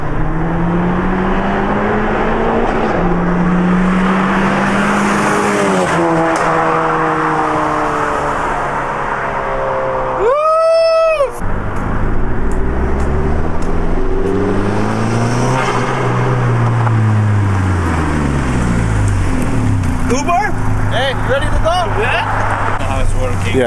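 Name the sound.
car driving past in a flyby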